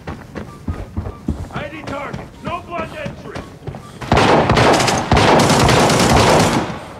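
Bursts of rapid gunfire in Arena Breakout erupt loudly in the second half, preceded by footsteps and scattered clicks with some indistinct voices.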